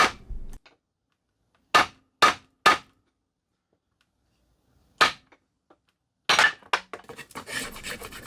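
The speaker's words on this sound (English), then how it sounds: "This takes about 20 hammer blows to unseat the handle right here." Sharp hammer blows strike in irregular groups, metallic knocks on a wooden tool handle ringing out close by, unseating it, with pauses between bursts and scraping at the end.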